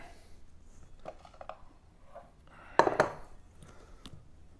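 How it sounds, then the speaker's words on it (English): Dough ingredients for a country white loaf being mixed in a bowl, with soft scraping and a few sharp clinks of utensil against the bowl, one louder clatter near the middle, quiet and close. "Now we're just going to mix it up."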